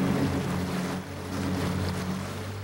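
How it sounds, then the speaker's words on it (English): An outboard motor drives a small boat along the Attawapiskat River in Canada, a steady low droning hum with water and wind noise running continuously throughout. "the outboard motor made it"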